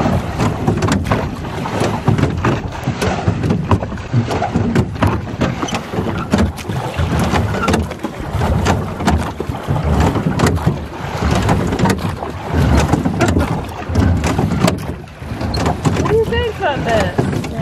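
A rowboat crosses a border on open water, with wind buffeting the microphone over a continuous wash of water and hull noise, loud and close throughout, and faint voices now and then.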